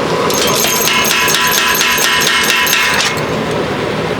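Rapid ringing metal hammer strikes on an anvil while forging an herb chopper, a steady run of about a dozen evenly spaced blows, loud and close, with no talking.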